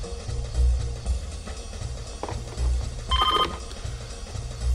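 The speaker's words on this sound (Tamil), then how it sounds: "ஃபோன் அடிக்கிற சத்தம் உனக்கு கேட்கலையா?" A telephone rings in a thriller movie scene, a short ring burst standing out near the middle over a steady low background rumble.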